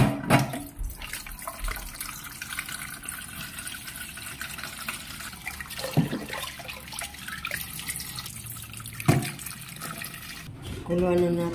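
A running kitchen tap splashes into a sink while ground-beef dish ingredients are rinsed, a steady close water rush with clattering handling noises and a voice talking throughout.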